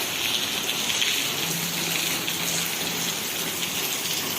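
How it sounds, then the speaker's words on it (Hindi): Steady rain falling during a cyclone, a dense continuous hiss of drops on surfaces near a balcony, with a faint low hum underneath and no speech. "देखंतु फ्रेंड्स वर्षा होची"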